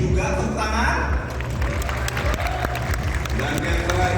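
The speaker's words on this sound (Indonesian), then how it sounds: "Tepuk tangan." A crowd at Idea Fest 2023 claps and cheers, the applause swelling and holding steady for several seconds while a voice carries over it.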